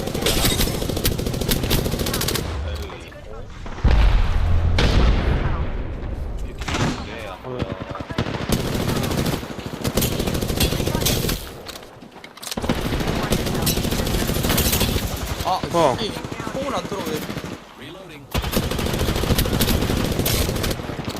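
Rapid automatic gunfire from the battle royale game Apex Legends crackles in repeated bursts, loud and close, broken by brief pauses and occasional quieter stretches, with a player's voice talking at times between the volleys.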